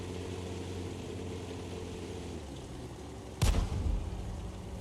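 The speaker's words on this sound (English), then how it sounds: "the Type T34 is now shooting on the T1 Heavy." A Type T34 tank fires a single loud, sharp cannon shot at a T1 Heavy tank in a tank battle video game, cutting through steady engine rumble and leaving a brief decaying boom.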